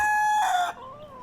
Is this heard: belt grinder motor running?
no